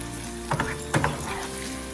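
Ginger fries in oil with a continuous close sizzle, broken by two brief stirring scrapes and bursts of louder crackle, with no voices over it.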